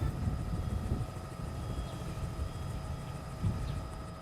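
A news helicopter surveys tornado damage near Dayton, Ohio, its steady rotor and engine drone continuous and moderately loud throughout, with no voices over it.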